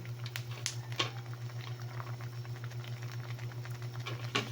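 Pot of soup with dried anchovies, okra, sponge gourd and moringa leaves at a gentle boil, a faint steady bubbling and soft popping patter over a low electrical hum.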